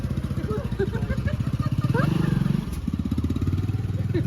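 A nearby motorcycle carrying a baby, its engine chugging in a steady, even pulse throughout, with people talking over it.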